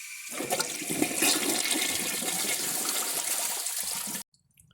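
A Kohler Wellworth toilet flushes in one loud, sustained rush of water that swirls steadily for about four seconds and then cuts off abruptly, leaving faint trickling.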